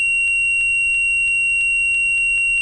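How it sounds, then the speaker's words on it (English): Davtron clock timer alarm in the A2A Cessna C172 flight simulator beeps in a fast, regular series of short electronic tones, about eight pulses, clean and alone against a near-silent background. "When the timer reaches zero, the alarm will be started and the display will start to flash."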